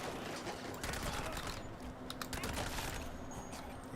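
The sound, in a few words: Tommy gun firing, from a video game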